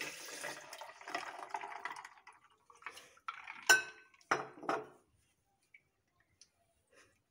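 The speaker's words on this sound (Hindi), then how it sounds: "उसके बाद हम इसमें दूध डालेंगे।" Milk streams into a container for a homemade chocolate shake, a soft continuous pour that tapers off and is followed by a few faint clinks and knocks before falling quiet.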